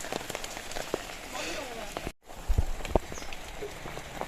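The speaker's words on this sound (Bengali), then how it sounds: "ওপর দিয়ে জল পড়ে, কিন্তু যেখানে যেখানে টাইগুলো ভাঙা আছে না, সেখান দিয়ে জল পড়ে।" Rain patters steadily, with scattered heavier drips falling nearby indoors through broken roof tiles, and a faint voice in the background.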